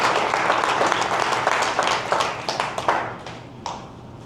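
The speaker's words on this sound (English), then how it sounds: "please give a round of applause to Celeste" Audience applause for Celeste at a Washington County Democrats gathering, a burst of many hands clapping that fades out over a few seconds.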